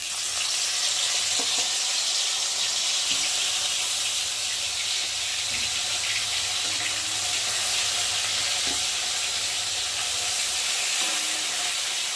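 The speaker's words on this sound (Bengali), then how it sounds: "একটু তেলটা গরম না হলে না মাছটা লেগে যাবে। দেখো এখন আমি মাছ দিচ্ছি।" Fish frying in hot oil for a Bengali cumin-paste fish curry gives a steady, close sizzle with a constant hiss that runs unbroken for the whole stretch. Occasional faint clinks sound beneath it, and no one speaks.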